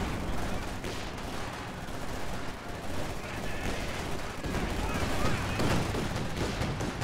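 MG42 machine gun fire in the Company of Heroes 2 strategy game, a dense continuous roar of automatic gunfire and battle noise that stays loud and unbroken throughout.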